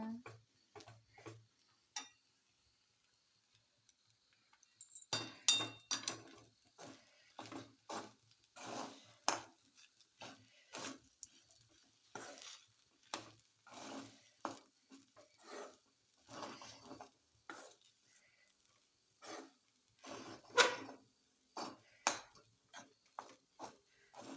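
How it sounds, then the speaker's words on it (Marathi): Schezwan fried rice being stirred with masala in a pan, a scattered run of spoon clinks and scrapes against the metal, close but soft, with a faint frying hiss beneath. "आता टाकायचं आहे मस्तपैकी सेजवान फ्राईड राईस मसाला आणि छान मिक्स करून घ्यायचं"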